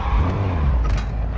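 An amphibious vehicle in the Warzone 2 video game drives with a loud, steady low engine rumble, with a brief tire-skid hiss partway through.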